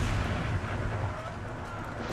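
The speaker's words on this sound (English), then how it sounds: "That cannon just shot a Cherokee that was dueling with a Spanish soldier." Cannon fire in the Empire Total War battle game, a deep booming blast that rolls off into a long rumbling tail, with no talk.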